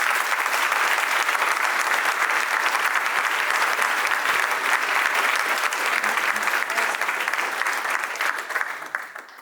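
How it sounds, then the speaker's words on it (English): A large crowd at a lecture event on technology and global development gives a loud, sustained round of applause that holds steady for about nine seconds before tapering off at the end. "Please give them a round of applause."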